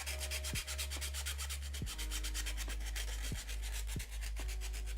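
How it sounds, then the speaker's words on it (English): Rapid rhythmic sanding strokes rub over a Mandalorian costume glove part, a continuous close scratching with even back-and-forth pulses, layered over a strong low electrical hum and intermittent faint tones. "I didn't realize I'm sanding it off camera"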